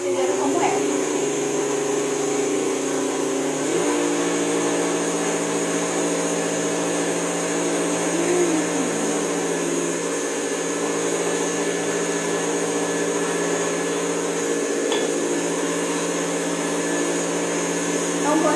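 An electric stand mixer whirs steadily and loudly as it beats a foam-method cake batter, a continuous motor hum with high whine that dips briefly in pitch early on, with someone talking over it.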